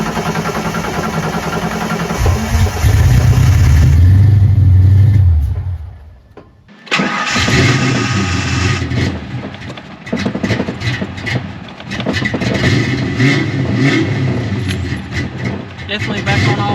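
A Ford Foxbody Mustang V8 cold start after sitting several days with new coolant: loud, close cranking grinds for a few seconds, drops out briefly, then the engine fires and settles into a strong, rumbling run with uneven throttle surges.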